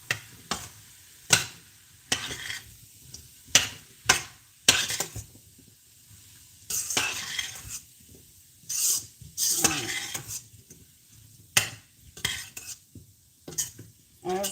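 A spoon stirs potato and ham soup in a pot, making a series of scraping strokes against the metal in irregular bursts with brief pauses, close and fairly loud, over a faint simmering hiss.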